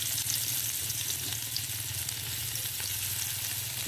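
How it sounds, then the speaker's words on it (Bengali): Onions go into smoking-hot oil in a pan, giving a close, loud, continuous sizzle and crackle that holds steady throughout with no talking. "তো দেখছো ধোয়া উঠে গেছে, মানে তেলটা গরম হয়ে গেছে। এবারে দিয়ে দেবো ওর মধ্যে আমি পেঁয়াজ।"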